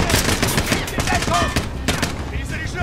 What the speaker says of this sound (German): kommen die Schüsse alle her?